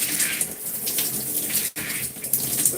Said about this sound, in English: we're going to now rinse so that we can get on to the styling process